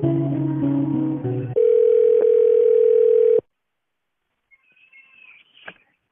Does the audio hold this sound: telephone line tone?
yes